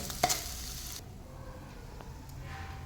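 Paneer roasting golden in a pan for paneer fried rice, opening with a short clatter and loud sizzle burst, then dropping to a faint, steady low frying hiss with occasional soft ticks, close and without talk.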